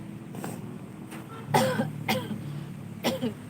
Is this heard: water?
no